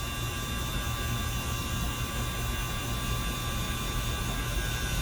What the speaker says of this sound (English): the vacuum pump's been running for about 30 minutes now